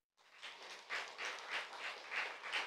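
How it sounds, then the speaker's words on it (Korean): A church congregation claps together in rhythmic waves after the pastor calls for applause. The crowd is moderately distant and fairly soft, and the claps are even with no voices. "다시 한번 박수"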